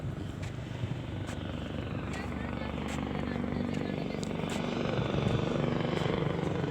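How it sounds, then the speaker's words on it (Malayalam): A helicopter circles overhead above a coastal fishing area, its rotor chop and engine drone steady and slowly growing louder, while people talk underneath. "ഹെലികോപ്റ്റർ അതാ."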